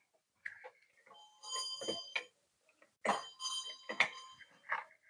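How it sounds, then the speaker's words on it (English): An old original mechanical doorbell at Oakleigh House Museum rings in two bursts of bright, metallic chiming tones, close and clear in a quiet room. "Let me ring the doorbell again."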